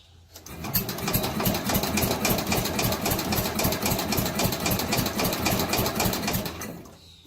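A scrap Allis Chalmers Big Ten tractor engine churns in a fast, steady mechanical chug for about six seconds, close and loud, then cuts off.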